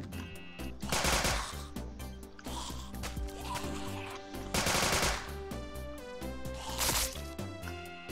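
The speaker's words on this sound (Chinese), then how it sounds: "我打那么多发子弹都没打中点" Rapid video-game gunfire in The Mining Dead, loud bursts of shots over a dense game music bed, with heavier volleys clustering around three points.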